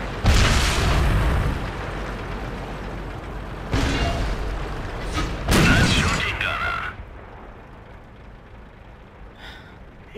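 Tank gun fire in a video game: loud booming shots and blasts at the start and midway, then fading rumble, with someone talking over parts of it.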